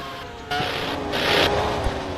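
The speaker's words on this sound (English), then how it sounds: "the sound of the V10 F1 car" A V10 Formula 1 race car engine holds a steady, high-pitched, droning whine at speed, fairly loud and continuous, with a brief surge partway through and no talk.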